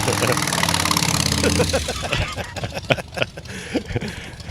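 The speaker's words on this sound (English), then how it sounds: "Listen to that engine purr." A motorcycle fitted with a custom Cobra exhaust idles at a car show with a steady, throaty hum. People talk over it as the engine note continues underneath.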